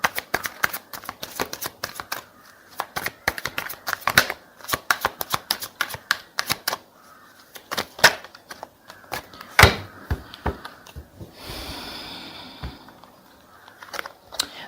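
Tarot cards being shuffled by hand, close up: a long run of quick crisp flicks and riffles in uneven bursts, with a softer sliding rustle near the end and no talk.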